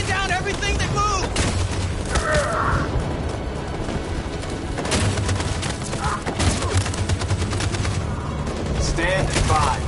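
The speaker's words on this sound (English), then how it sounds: "That machine gun is taking down everything that moves!" Dense bursts of machine-gun fire and scattered gunshots in a video game, loud and nearly continuous, with shouted in-game voice lines over the battle.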